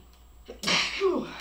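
A single close, sharp sneeze erupts abruptly, preceded by a brief intake of breath, during a small-town board meeting in a quiet room with faint background hum.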